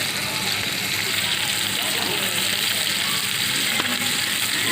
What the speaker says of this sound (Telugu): మిర్చి ఎరగడేసినారు సాములు.